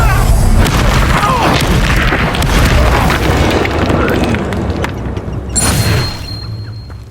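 Incendio fire spell blasts in Hogwarts Legacy combat, a loud sustained roaring whoosh of flame and booming bursts, with a sharp hissing flare near the end.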